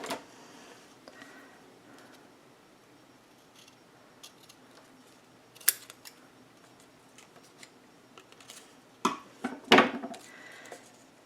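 Scissors snipping through craft material for a steampunk project, a handful of scattered crisp cuts and rustles over a quiet room, the strongest snips bunched toward the end.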